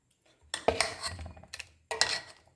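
A utensil clatters and scrapes against a pan while carrot pachadi, with its ground paste just added, is stirred, in two or three short bursts of clinking close by with quiet gaps between.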